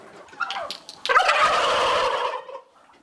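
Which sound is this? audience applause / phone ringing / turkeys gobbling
turkeys gobbling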